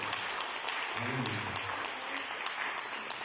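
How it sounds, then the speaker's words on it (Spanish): Congregation in a church applauding, a dense wash of steady clapping that fills the room, with a voice rising briefly beneath it. "Denle un aplauso al Señor Jesús."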